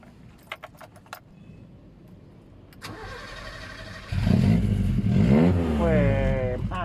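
Keys jingle briefly, then a 1984 Honda Civic Wonder SB3 hatchback cranks and fires up, its small engine revving up and down loudly and close before settling into a steady run.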